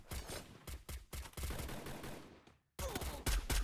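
Rapid gunfire bursts from the mobile shooter game Free Fire crackle in short clusters, with a brief silent gap before another loud volley.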